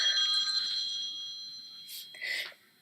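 A telephone rings repeatedly in a home, a steady electronic trill under quiet room sound, then cut off by brief rustles as the receiver is lifted.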